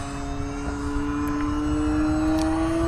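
An E-flite UMX Timber RC plane makes a slow, flaps-down flyby, its small electric motor giving a steady whine that rises gently in pitch as it passes nearby.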